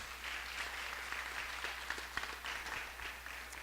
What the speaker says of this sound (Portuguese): Queria convidar você a dar uma salva de palmas a esse Deus glorioso e poderoso.